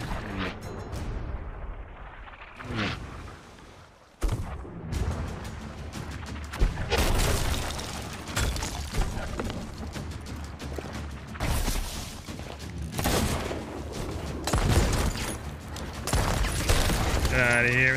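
Heavy ship cannon broadsides boom in a repeated volley during a naval fight in Sea of Thieves, loud and close, mixed with crashes and clattering, while players talk over the action.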